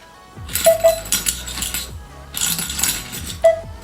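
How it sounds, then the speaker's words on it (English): Metallic clicks and clinks of a key turning in a eufy smart fingerprint door lock, a few sharp close-up rattles in two bursts with brief ringing tones, no talking. "If you guys turn the key on here,"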